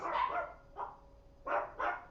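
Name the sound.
chihuahuas barking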